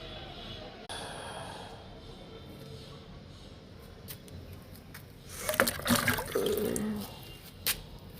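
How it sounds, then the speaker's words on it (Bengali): Water is poured onto dry potted plants outdoors, giving a steady, moderately loud splashing and trickling that swells into heavier gushing near the end. "দেখো বন্ধুরা, গাছে জল দিচ্ছি।"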